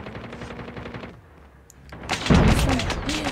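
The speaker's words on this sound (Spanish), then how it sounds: "Me están disparando a mí." Gunfire in the Call of Duty Mobile video game, a rapid burst of loud automatic shots with a heavy boom after a short lull, while a voice talks over it.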